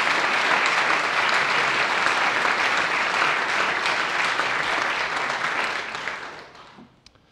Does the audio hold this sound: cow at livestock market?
no